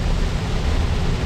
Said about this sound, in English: Oh yes, it is pouring rain.